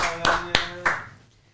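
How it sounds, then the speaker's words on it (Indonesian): A brief burst of audience clapping at an agricultural talk about the farm product Bioboost, a few sharp separate claps close together that die away quickly. "Boleh dong tepuk tangan untuk Biobosnya ya."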